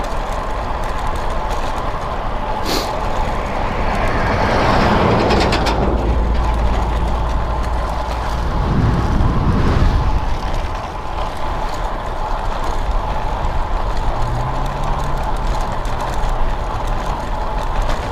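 A car on a road approaches and passes near a group of cyclists, a swelling engine and tire rumble over steady outdoor traffic and wind noise, lasting through a long stretch with some mechanical clicks.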